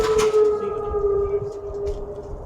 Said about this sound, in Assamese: এয়া চাইৰেন বজি আছে, শুনি পাইছে?